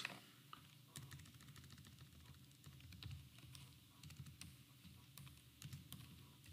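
Rapid keystrokes on a computer keyboard while marks are entered into a Microsoft Access database, quiet and close, in uneven bursts of clicks with no speech.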